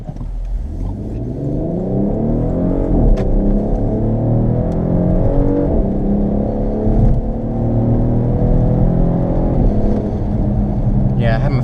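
A 2017 base-model Porsche Cayenne accelerates hard in Sport Plus mode, its engine note sweeping upward in pitch through repeated pulls, loud and continuous from the cabin.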